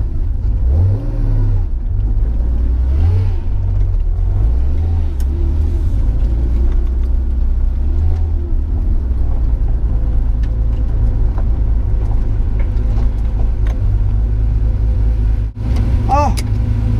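A Porsche 911 2.8 RSR build car engine runs continuously with a low rumble, rising and falling revs as it drives, close and loud throughout.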